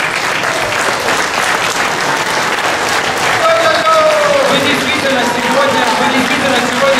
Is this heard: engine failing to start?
no